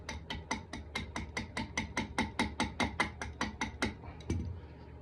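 A small wrench taps pieces into place in a run of about sixteen sharp, evenly spaced metallic knocks, close and fairly loud, with a duller thump at the end.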